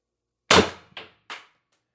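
A single TR50 Torpedo air rifle shot: a sharp, close crack followed by two fainter echoing pops within about a second, against silence.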